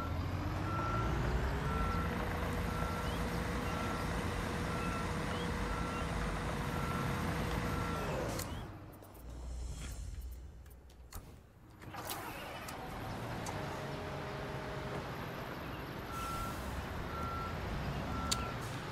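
Dump truck backing up in the Construction Simulator game, its steady reversing beeps repeating over a continuous engine rumble, pausing briefly midway before resuming alongside the idling machinery.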